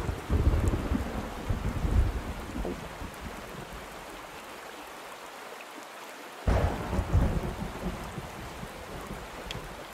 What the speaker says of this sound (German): der Donner hat mich erschreckt